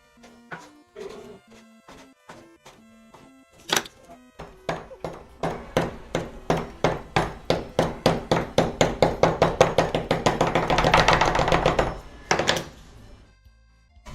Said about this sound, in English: And we just chop it.